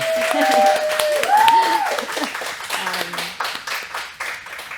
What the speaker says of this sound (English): Can we get a round of applause, Hana?